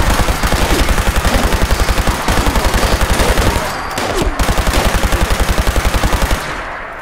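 Automatic laser rifle with a quad fire-rate effect in Fallout 76 fires in long rapid bursts, loud and close, with a short break midway and a fading tail at the end.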